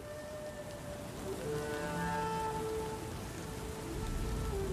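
Steady rain pours down in the strategy game Total War: Rome II, a dense continuous hiss of drops on surfaces that swells slightly louder partway through, with faint tonal in-game sounds underneath and no voices.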